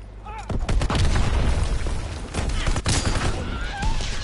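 Grenade blasts and gunfire from the game Call of Duty WWII, a dense, loud run of booming explosions and rattling shots that goes on for several seconds, with game voices and radio chatter mixed in.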